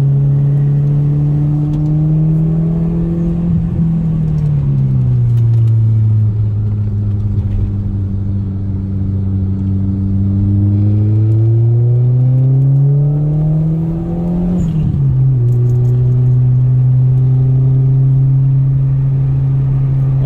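Recorded from inside a Peugeot 406 taxi lapping a race circuit, the engine drones loud and steady, rising and falling in pitch as the car accelerates, lifts and shifts through corners.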